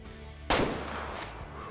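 A single sharp hunting-rifle shot in the Way Of The Hunter video game, loud and close, its echo fading over a quiet outdoor background.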